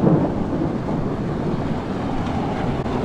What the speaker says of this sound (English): It's like a downpour happening right now.